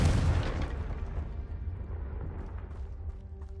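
A Confringo spell blast in Hogwarts Legacy, one booming explosion at the start that rumbles and fades over a few seconds, with faint game sounds trailing after.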